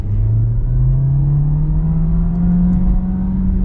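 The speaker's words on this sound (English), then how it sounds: "let's get our acceleration here" A 2023 Volkswagen Jetta with an automatic transmission accelerates, its engine note holding steady and climbing gradually as a loud, continuous drone with a low rumble throughout, no voices.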